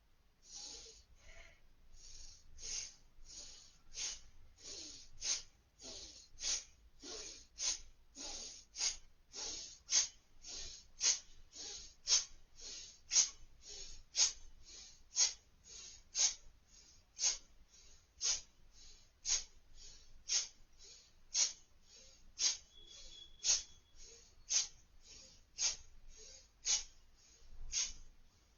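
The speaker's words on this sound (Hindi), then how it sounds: "आप मेरी सांसों की आवाज भी सुन सकते हैं।" Rhythmic breathing during a seated yoga shoulder exercise, with shoulders raised and lowered in turn: soft, close breaths repeat steadily, about one per second, with no talking.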